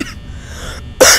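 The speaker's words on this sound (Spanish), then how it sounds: "Perdón, tengo tos." Someone gives a single, loud, close cough that bursts out abruptly at the end of a short moment of quiet room noise.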